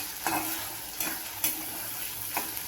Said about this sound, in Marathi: आता त्याला चांगले असे तळून घेते मी